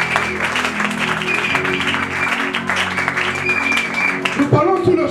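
Audience applauding at a church gathering, a dense steady clapping from many hands throughout, with a voice speaking over it and an amplified voice near the end.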